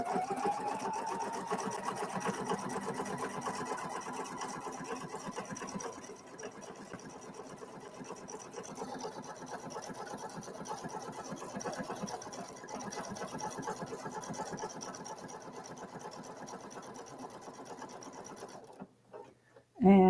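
A PFAFF sewing machine runs a programmed stitch with an automatic three-stitch reverse and taper, giving a steady close mechanical whir and rapid needle patter for most of the stretch before it stops near the end.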